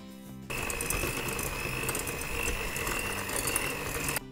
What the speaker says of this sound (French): On va fouetter 200 g de beurre mou avec 160 g de cassonade.